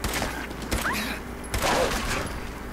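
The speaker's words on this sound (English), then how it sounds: "Very dangerous place for having exploding bullets." Exploding bullets fired in Fallout, a loud crackling fusillade of shots and bursts filling a short stretch, with no talk over it.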